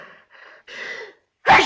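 A sneeze built up through a few quick drawn-in breaths, then released in one loud, abrupt burst close by in a 1939 film scene.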